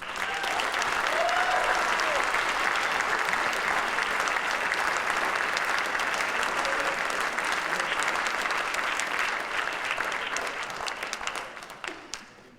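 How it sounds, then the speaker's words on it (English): Sustained applause from an audience at a music camp performance honoring the campers, a dense steady wash of many hands clapping close and loud for about eleven seconds before tapering off at the end. "can we please give a round of applause to our campers?"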